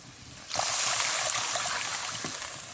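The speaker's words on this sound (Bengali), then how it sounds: "মশলাটা হয়ে গেছে আর দিয়ে দিচ্ছি জল" Water poured into a pan of spiced fish curry with brinjal, a steady rushing splash that starts abruptly and holds loud for over two seconds before easing slightly, heard alone.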